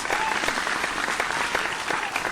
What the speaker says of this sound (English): please give a big round of applause for our top 9 contestants